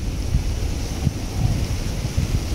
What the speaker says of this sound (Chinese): 突然间落大雨啊！